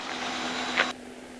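A helicopter engine idles with the throttle rolled fully down and the clutch disengaged, a steady close mechanical drone with a low hum that drops abruptly to a quieter level partway through.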